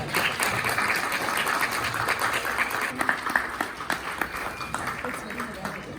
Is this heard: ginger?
no